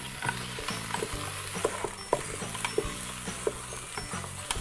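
A pork leg stirred in a pressure cooker pot used like a wok, with scraping and clinking of the utensil against the pot over a soft sizzle, repeated irregular strokes at close range and no voices.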